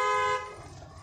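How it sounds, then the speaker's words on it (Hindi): A car horn blares in one steady blast, then cuts off, leaving low road rumble. "हॉर्न मारो"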